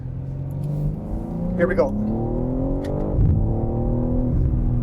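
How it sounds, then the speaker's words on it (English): BMW M3 Touring with manual gearbox, exhaust button on, driving along Takao Parkway in Kyoto: a steady engine and exhaust drone rising in pitch under acceleration, with someone speaking briefly over it. "Obviously with the exhaust button on, it's going to pipe in a little bit of that AI sound."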